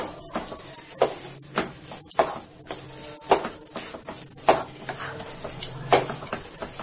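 A spoon stirs carrot halwa made with milk powder in a pan after almonds and cashews go in, giving repeated sharp scraping clinks against the metal every second or so, close and clear, with no talk.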